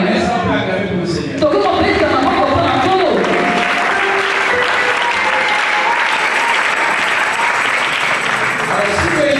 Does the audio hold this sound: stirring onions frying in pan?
no